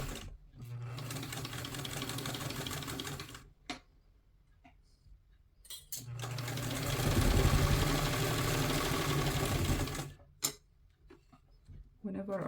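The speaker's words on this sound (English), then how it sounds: "from here I will proceed to stitching until I finish the seam at 1/2 inch away from the edge" A sewing machine stitches a two-piece collar seam half an inch from the edge, running in two steady humming, ticking bursts separated by a quiet pause, with brief clicks between runs.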